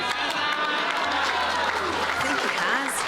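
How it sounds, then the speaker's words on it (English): A crowd at a bowls match cheers and applauds in a sustained, dense wash of clapping and shouts, loud and close, with a commentator's voice faintly underneath. "Cheers from the Pulse crowd."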